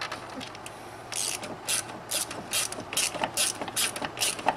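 A ratchet snugs the oil filter housing bolts on a BMW N55 engine in a series of quick clicking bursts, close and fairly loud, with short pauses between strokes.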